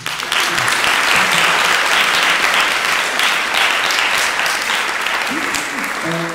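Sustained audience applause fills a choir concert hall, dense and steady throughout, with faint voices in the crowd and a brief tonal sound near the end.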